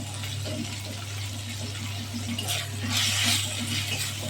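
Water poured in a small splash onto spices frying in oil in a pan while cooking a koi fish curry, a soft hiss and sizzle building briefly near the end over a steady low hum.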